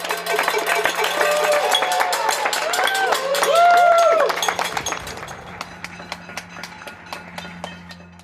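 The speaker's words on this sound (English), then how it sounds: "listen to the sound of the glorious applause" Neighbourhood applause for UK National Health Service workers during the nationwide tribute, heard as steady outdoor clapping from many people at a distance, with cheering, whistles and a clanking bell, tapering into scattered claps.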